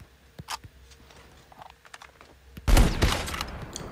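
Sniper gunfire in a shooting video game: scattered sharp cracks and clicks, then a loud blast with a rattling, noisy tail that lingers to the end.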